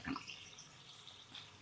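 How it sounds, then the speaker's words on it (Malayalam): Water poured into a pot of Kerala-style tomato rasam, a faint, brief splash and trickle that fades quickly, alone with no talk. "നമുക്കിതിനകത്തൊരു 2 ഗ്ലാസ് വെള്ളവും കൂടെ ചേർക്കണം."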